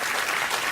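A late-night talk show studio audience applauds, a short, dense, even wash of clapping that continues throughout.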